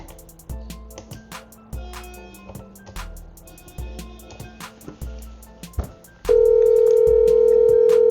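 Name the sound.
telephone ringback tone while calling the guard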